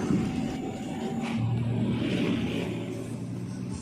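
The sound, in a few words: Suzuki Carry pickup loud exhaust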